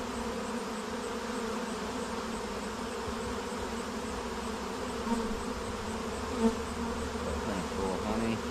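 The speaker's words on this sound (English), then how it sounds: "That's a nice little young baby bee." Honeybees buzz in a dense, steady drone around an open hive frame being inspected, close and continuous, with a couple of faint bumps and no speech.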